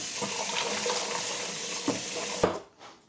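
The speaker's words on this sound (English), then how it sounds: "Now I have to wash these also." Tap water runs steadily into a sink as cut potatoes are washed, a close hissing stream with a few light knocks before the flow cuts off near the end.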